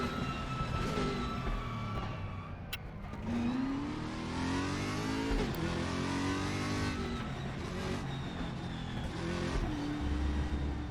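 A GT3 race car in the RaceRoom racing game revs hard through the gears, with rising whines and shifts, loud and continuous with no talking.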